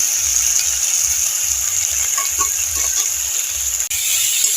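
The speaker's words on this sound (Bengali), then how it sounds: "আদাটা আমি ভেজে নেব।" Ginger paste fries in oil with a continuous soft hiss and faint crackles, steady throughout, with a brief dip near the end.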